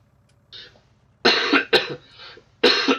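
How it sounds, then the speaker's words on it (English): A sick man coughs harshly several times, with a faint throat sound first and then three loud, ragged bursts close to the mic over a low background hum. "I will occasionally cough pretty ugly during this video"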